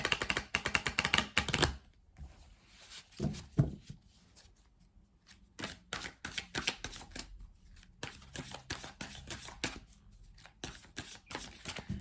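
Oracle cards drawn and shuffled at close range, making bursts of crisp riffling and rapid flicking. A brief quieter gap falls between the bursts, and then more card taps and shuffles come in irregular clusters, with no talking.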